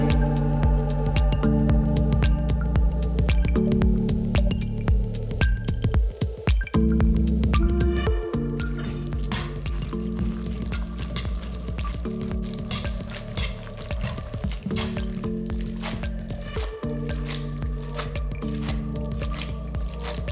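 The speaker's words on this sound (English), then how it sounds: "In goes the white and velvety sauce off the heat" Thick white, velvety Alfredo sauce made without cream is poured off the heat onto fettuccine, giving close, steady wet squishing and dripping for about twenty seconds, with sustained tonal sounds running underneath.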